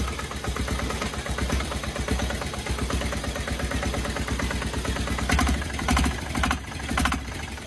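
A Polaris diesel engine, fitted with a turbo, idles on its own with a fast, steady knocking chug and rough mechanical rattle, running close and loud with a few brief bursts of higher hiss.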